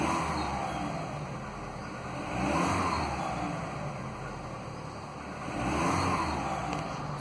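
A Volkswagen 1.4 16V petrol engine idles steadily after its pistons were replaced to cure piston slap, a smooth continuous hum with two gentle swells in level and no voices.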